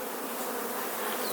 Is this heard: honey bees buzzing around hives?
yes